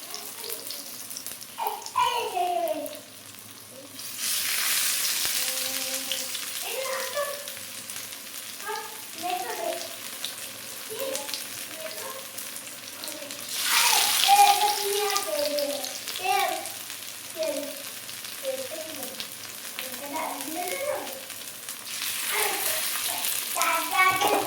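Jute leaf fritters made from rice and lentil batter frying in oil, a steady bubbling sizzle that swells as each piece is dropped in, with someone speaking over it throughout.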